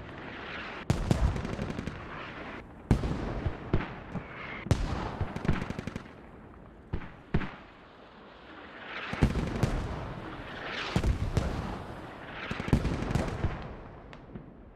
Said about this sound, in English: Those are good mortars.